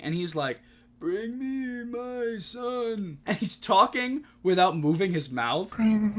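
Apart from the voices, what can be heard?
No distinct noise like a dog, phone or traffic.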